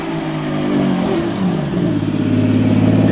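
Tuned Toyota JZX110 Camry engine revving through a loud exhaust with no resonator, a sustained raspy drone rising and falling in pitch, heard close and loud from inside the car.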